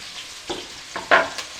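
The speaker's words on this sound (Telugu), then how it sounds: "ఇప్పుడు ఈ ఆనియన్స్ చక్కగా ఫ్రై అవుతున్నాయి." Onions and green chillies fry in a pan under a soft background sizzle. A few sharp scraping stirs sound close, the last the loudest.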